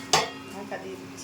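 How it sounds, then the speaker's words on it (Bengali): A lid set on a cooking pot of potatoes and hot water for a Katla fish curry gives one sharp metallic clank, followed by a couple of faint, soft clinks. "ঢাকা দিয়ে দিচ্ছি।"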